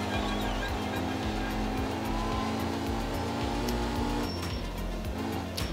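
A Porsche rally car driven in the video game Art of Rally, its engine droning and shifting pitch through gear changes with some tire noise, steady and loud throughout with no talk.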